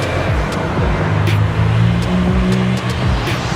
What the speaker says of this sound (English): somebody's about to drive by in a Ferrari